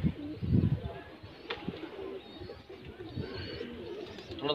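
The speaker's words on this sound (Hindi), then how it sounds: "बढ़िया कबूतर है।" Soft high-flyer pigeon coos sound nearby amid faint rustling and low background murmur.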